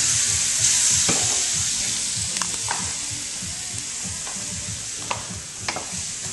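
Sausage and peppers frying in a pan, with a steady sizzle throughout and scattered scraping clicks of a utensil stirring the food, close and fairly loud.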